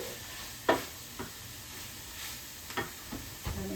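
Ground beef cooking in a pan for cheeseburger tacos, a soft, steady sizzle with a few light scrapes and stirring clicks from the pan, faint and close, no talking.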